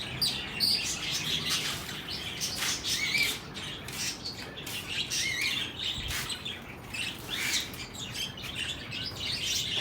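Dense, continuous chirping and tweeting from a flock of parakeets on a rooftop, busy and overlapping throughout, fairly close with steady loudness.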